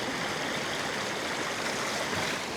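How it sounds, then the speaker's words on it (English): Small mountain stream rushing steadily over rocks at a river crossing on a hike, a continuous close broadband wash of flowing water with no talk. "So now I have a little river crossing just over here."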